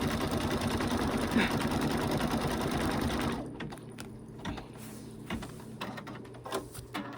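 An embroidery machine stitches a snowman design on a hoop with plastic stabilizer, its rapid steady needle hum loud for about three seconds, then stopping to quieter clicks and handling noises.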